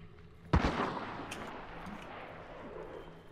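A single sharp gunshot rings out in the video game Hunt: Showdown, loud and sudden, then trails off in a long echoing decay over quiet background ambience.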